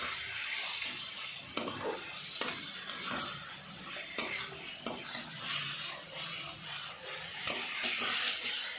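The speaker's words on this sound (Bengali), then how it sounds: "এবার ম্যারিনেট করা মাংসটা দিয়ে দেবো, দিয়ে এখন 10 মিনিট মতো ভালো করে কষিয়ে নেব" Marinated chicken frying in a pan with spices, a steady close sizzle and hiss under repeated scraping stirs, no talking.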